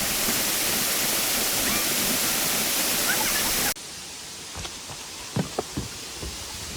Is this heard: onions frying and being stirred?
no